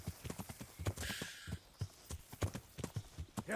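A horse's hooves clip-clop at a steady walking pace in Kingdom Come: Deliverance, with a quick run of distinct, fairly close thuds and a brief hiss of rustling partway through, with no talking.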